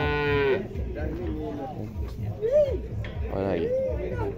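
Cattle mooing repeatedly in a pen at a livestock fair in Afogados da Ingazeira, Pernambuco, several drawn-out calls overlapping, with a low steady murmur of the animals throughout.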